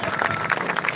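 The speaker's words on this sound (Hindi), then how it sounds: "एक बार जोरदार तालियां हो जाए बीएड डिग्री धारकों के लिए" A large crowd at a B.Ed degree holders' protest gathering in Prayagraj applauding, a dense, continuous wash of clapping that stays loud and steady throughout.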